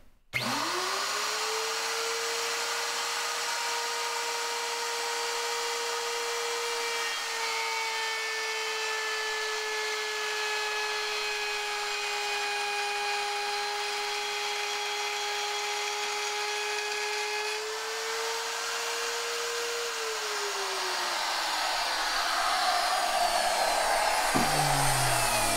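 A wood router cuts into metal, its motor giving a loud, steady high-pitched whine for about twenty seconds before the pitch sags and winds down, ending with rougher scraping noise.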